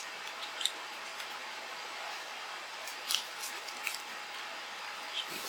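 Tape is snipped with scissors during guitar top bookmatching, quiet crisp cuts spaced a second or two apart against a faint room hiss.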